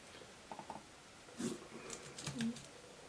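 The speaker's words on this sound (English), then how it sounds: "As you can see, the keyboard works." Someone types on a computer keyboard at a budget desk setup: a few scattered soft key taps, close but quiet, in an otherwise hushed room.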